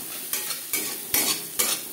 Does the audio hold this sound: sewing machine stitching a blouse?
no